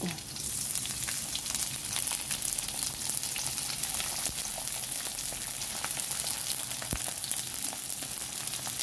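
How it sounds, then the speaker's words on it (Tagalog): Dried fish, daing danggit, fries in hot oil, giving a steady, dense sizzle with small pops and crackles, close and loud throughout with no talk. "may mainit na rin ako mantika dito. Lagay na natin yung daing."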